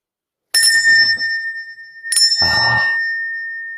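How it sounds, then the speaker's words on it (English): A hand bell is rung twice, each strike ringing out with a clear sustained tone that slowly fades, the second ring followed by a rattling shake under the long decay. "let me go get the bell."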